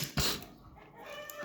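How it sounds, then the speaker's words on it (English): A chicken clucks once or twice in a home studio, a short nearby squawk followed by quieter room noise. "Sorry about the chicken at our home studio."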